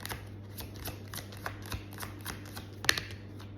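A deck of tarot cards is shuffled up close in a quick run of crisp riffling clicks and flutters, with one sharper snap near the end and no talk.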